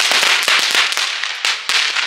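A rapid string of sharp Diwali firecracker bangs and crackles, several close, loud pops in quick succession with brief gaps between bursts.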